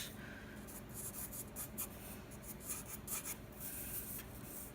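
A pencil sketches light freehand lines for a circle on paper, a soft, close scratching that comes in repeated short strokes of uneven rhythm, faint and alone without any voice.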